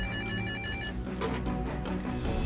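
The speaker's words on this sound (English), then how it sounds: "And my phone rings." A telephone ringing in an office, repeated electronic bell trills in short bursts that fade into a music bed with no voices.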